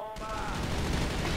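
Rapid automatic gunfire from the online shooter game Crossfire rattles in one dense, continuous burst, loud and close throughout.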